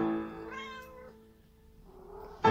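A domestic cat meows in a drawn-out, tonal call that fades, followed by a quieter rising start of another meow at the end, close and alone without talk.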